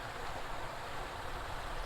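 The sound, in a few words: waterfall flowing in the background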